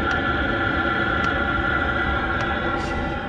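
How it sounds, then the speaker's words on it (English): A water pump inside a caravan ticks faintly at regular intervals of about a second, set against a steady low hum of background noise. "So that's the ticker noise you can hear at night inside the van."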